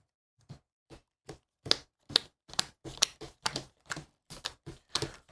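Cards being shuffled by hand for a Machina Arcana horror board game, heard as a string of short, crisp riffling bursts that come in quick succession and grow steadier and louder as the shuffle goes on.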